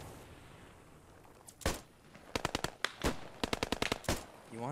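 Machine gun fire in the Post Scriptum video game: sharp bursts of rapid shots, some single cracks and short volleys, loud against a quiet rumbling background with no talk.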